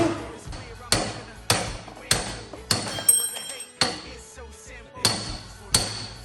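Heavy hammer blows on a large truck socket ring out one after another at a steady pace, each a sharp metallic strike, during a VW Golf 1.8 engine rebuild, with people talking in the background.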